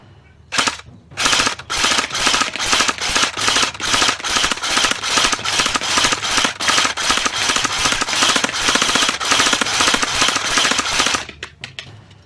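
A CYMA CM032A M14 SOCOM airsoft electric rifle fires on full auto in long, loud bursts of rapid, evenly spaced shots close to the listener, with brief pauses between strings and no talking.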